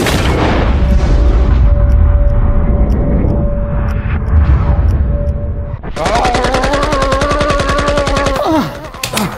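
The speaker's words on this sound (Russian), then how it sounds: "Из невидимого автомата стреляет." A deep, booming rumble with a steady tone is followed by a loud, rapid burst of automatic rifle fire, evenly spaced shots ringing close for about three seconds before cutting off.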